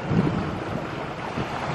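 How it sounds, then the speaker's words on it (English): Water laps against the rocks by a lakeside resort deck at Cedar Point in October. The soft wash is partly covered by loud gusts of wind hitting the microphone. "You can hear the water against the rocks."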